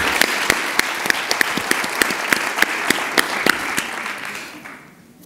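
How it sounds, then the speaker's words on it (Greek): Audience applause at a medical awards ceremony, a dense round of clapping with a few sharp, close individual claps standing out, fading away near the end. "Ένα χειροκρότημα παρακαλώ."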